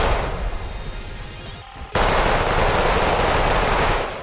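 Rapid, continuous gunfire from a sniper build in Weird Gun Game rattles steadily and loudly, breaks off briefly, then resumes even louder in a dense, unbroken stream of shots.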